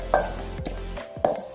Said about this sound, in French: On va mélanger le tout.